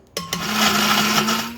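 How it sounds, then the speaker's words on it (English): A kitchen blender starts up abruptly and whirs steadily as it purees rehydrated chiles with other ingredients, a close, loud motor hum with a rising whine, no talk. "Put everything in a blender and blend until smooth."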